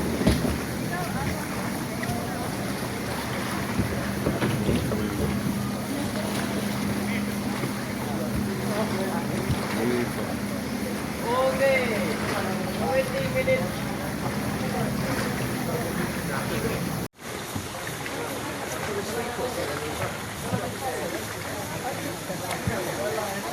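A boat ride among many boats at Koh Phi Phi, with a steady engine drone, wind and water wash throughout and a person talking over it.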